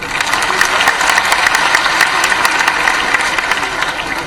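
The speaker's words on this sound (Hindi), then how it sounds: "जय घोष करिए, जोरदार तालियां।" Loud, continuous applause from a large audience at a Ladli Laxmi Utsav government event in Madhya Pradesh, dense clapping sustained evenly throughout with no pauses.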